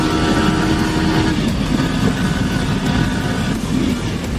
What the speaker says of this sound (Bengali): ভাই সাহেব অনেকদিন পর R15 টান দিয়ে মজা লেগে গেছে।